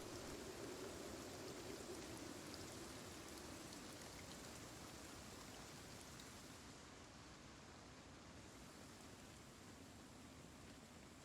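Steady rain falling in a video game, a continuous soft hiss of drops on surfaces that runs evenly throughout, faint and uninterrupted, with no voices.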